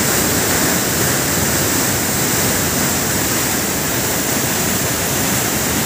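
Samandere Waterfall in Düzce pours noisily into a large plunge pool, a loud, close, unbroken roar of rushing water with no voices.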